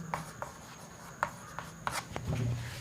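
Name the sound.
writing on board during maths lesson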